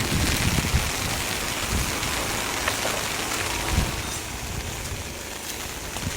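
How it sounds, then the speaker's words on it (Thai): Steady, dense rain pours down at a countryside garden home, a constant broadband hiss of drops on surfaces, loud and unbroken, with no voices. "ต้องรอให้ฝน ซาประมาณหนึ่งก่อนเดี๋ยวค่อยออกไปนะครับ"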